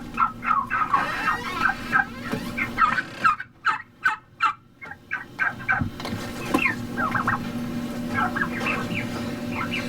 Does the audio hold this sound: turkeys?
yes